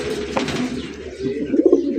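Fancy crested pigeons in an outdoor cage coo loudly and close, a run of low rolling calls with a stronger burst near the end.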